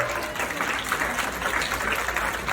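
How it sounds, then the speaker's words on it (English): Guests at a graduation speech applaud, a soft, continuous patter of many hands from across the room with no voices on top. "Give them a big round of applause."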